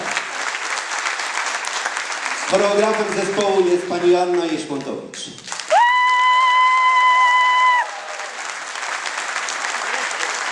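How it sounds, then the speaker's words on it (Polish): Steady audience applause fills a hall after a performance by a Kashubian song and dance ensemble, broken midway by someone speaking over a microphone, with a held electronic tone briefly sounding before the clapping carries on. "Gorące brawa."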